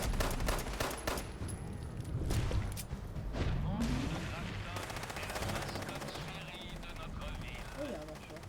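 Bursts of automatic gunfire crackle loudly in Fallout 76, rattling in quick volleys with a few heavier impacts, while a voice talks over the shooting.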